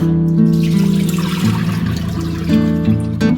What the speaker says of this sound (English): this is the water that was on the meat, so what I'm gonna do is just throw this off